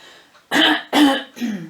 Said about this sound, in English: Sorry, morning cough.